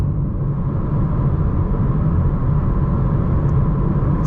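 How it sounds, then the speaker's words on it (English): Steady deep exhaust rumble from a BMW M3 with an IRL midpipe and AA downpipes, loud and continuous from the cabin while cruising, with no change in revs and no voices. "Kind of insane just how much a downpipe can change the sound."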